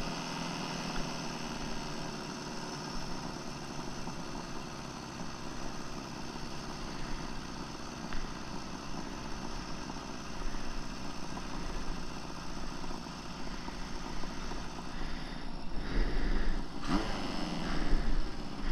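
A Honda CB750F motorcycle engine idles after a carburetor adjustment, giving a steady, fairly quiet low rumble that swells slightly louder toward the end.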